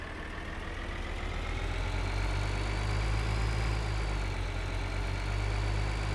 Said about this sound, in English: Then we'll head back over with our tractor